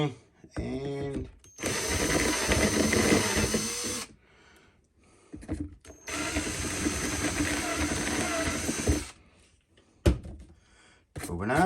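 A power drill bores holes into a part while an electrolysis tank is being built. Two long, loud bursts of grinding, whirring drilling come up close, separated by a brief pause and followed by softer clunks of handling.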